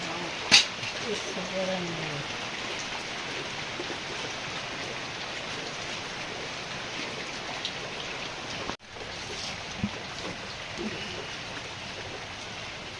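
Heavy rain pours in a steady, dense hiss of drops on surfaces after ten to twelve days of downpour and flooding, with a short voice early on and a brief dropout partway through.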